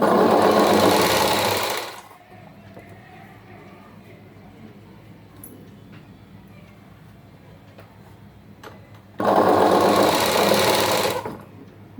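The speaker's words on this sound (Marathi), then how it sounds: "हे असं फोल्ड करून मी ह्याच्यावर दाब शिलाई मारत आहे" Sewing machine stitching a folded blouse, running in two loud, steady bursts of about two seconds each with a quiet pause between them.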